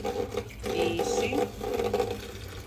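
Water gurgles and splashes steadily as it fills the compartments of an egg tray, a close, continuous running-water sound with slight variations, no talking over it.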